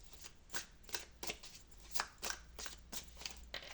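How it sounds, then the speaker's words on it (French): A deck of guardian angel tarot cards is shuffled close up in a quiet room, giving a rapid series of soft, crisp riffles and slaps in an irregular rhythm with no voices. "premier message avec le tarot des anges gardiens, de Dorine Virtue."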